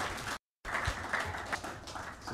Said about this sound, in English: Let's give our sister a round of applause, Sister Michonne and Sister Tia.